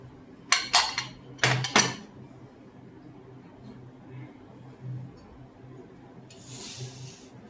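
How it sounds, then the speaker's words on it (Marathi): Sapota (chikoo) fruits are dropped into a mixer jar for a milkshake. A few sharp hard knocks cluster in the first two seconds, followed by a quiet kitchen with faint background noise and a soft hiss near the end. "तो आपण मिक्सरच्या भांड्यात घालून घेऊया"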